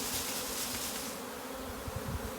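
A honeybee swarm being captured gives off a dense, steady buzzing that stays loud and continuous throughout, with a slight easing partway through and no voices.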